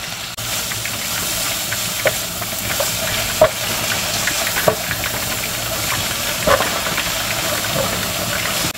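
Carrots, onion and cabbage sizzle in a hot pan, with a steady frying crackle broken by irregular scrapes and clacks of a utensil stirring the vegetables.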